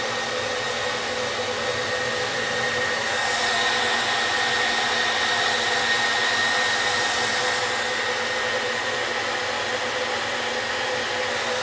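A hair dryer roars continuously as it heats the original price sticker on a 1988 Teenage Mutant Ninja Turtles Donatello figure, a close, loud, even blowing with no pauses.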